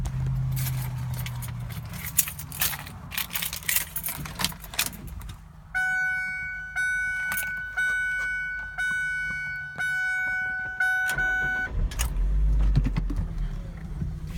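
Keys jingle and a repeating warning chime sounds inside a Ford Focus wagon, then the engine cranks and catches with a low rumble near the end, close by and with no talking.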